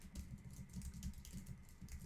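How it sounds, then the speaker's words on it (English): Steady, soft keyboard typing as words are entered into an Etsy logo design, a continuous patter of faint keystrokes over low background hum. "click on the letters and type in your words that you want to use"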